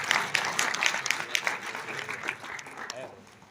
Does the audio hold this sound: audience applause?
yes